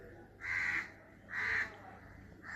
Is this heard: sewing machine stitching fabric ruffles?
no